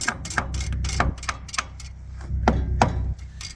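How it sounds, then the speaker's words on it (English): Light hammer taps on the starter of a 1949 Farmall H tractor, a handful of sharp close metallic knocks in an irregular rhythm, alone with no talk. "I'll give it a couple light love taps with the old hammer here."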